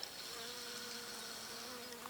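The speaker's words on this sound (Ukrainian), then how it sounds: "айва гудить від бджоли." Bees buzzing steadily on a flowering quince tree at a forest apiary, a continuous drone of a swarm humming close by without pause.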